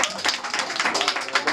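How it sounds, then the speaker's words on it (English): A short, close burst of audience applause, with dense overlapping hand claps lasting under two seconds. "give her a round of applause"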